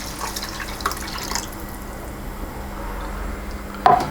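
Stock pours into a pot in the kitchen while shepherd's pie is being made, a soft trickling and dripping liquid sound that is faint and steady, ending with a brief louder splash or clunk.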